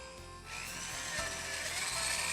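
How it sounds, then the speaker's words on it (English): Power drill boring a 1/4 inch hole in a model railroad table, a faint steady whine that rises after half a second and holds to the end, heard alone. "we'll simply drill a 1/4 inch hole where the feeder wires exit our track"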